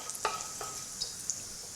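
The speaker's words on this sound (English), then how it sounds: "in a kadai, I'm going to add some oil, and once the oil is hot, I'm going to add the jeera, which is cumin seeds" Cumin seeds crackle as they are stirred into hot oil in a kadai, giving a soft steady sizzle with a few distinct utensil clinks and scrapes nearby and no talking.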